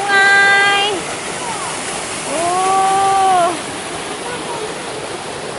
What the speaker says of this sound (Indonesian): seru banget bisa main air di sungai.